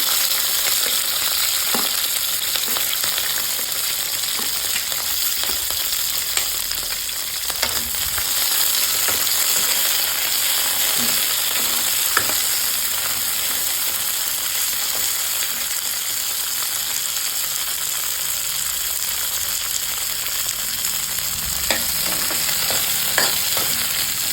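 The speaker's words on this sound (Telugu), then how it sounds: "ఒక 2 to 3 స్పూన్స్ ఆయిల్లోకి మనం ఈ పచ్చిమిరపకాయలు అనేది వేసుకోవాలి." Green chillies sizzle steadily in a few spoonfuls of hot oil for a Rayalaseema-style meal, a constant close frying hiss with occasional spoon scrapes and stirring clicks throughout, no voices.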